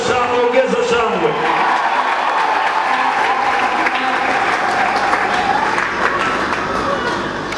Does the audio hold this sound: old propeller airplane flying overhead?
no